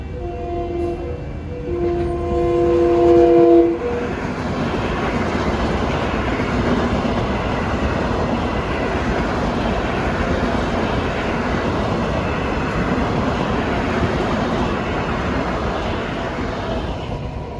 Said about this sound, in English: the gates are going down for train 1927 en route from Ronkonkoma to Penn Station